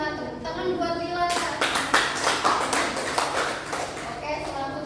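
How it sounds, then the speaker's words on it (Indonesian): Classroom students clap for a classmate at the front, the clapping starting after a second of speech and continuing as a dense, moderately loud burst of hand claps to the end. "tepuk tangan"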